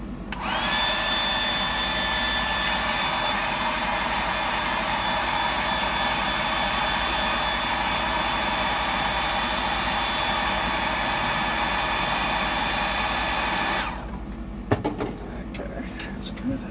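A hair dryer blowing close and loud for about fourteen seconds to dry a coat of paint on a 100mm Sammy fishing lure, then switching off to quieter handling clicks.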